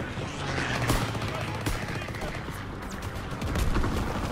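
Gunfire in the Call of Duty WWII Ardennes offensive campaign: dense, rapid weapon shots and bursts crackle continuously under game noise, with a voice talking over it.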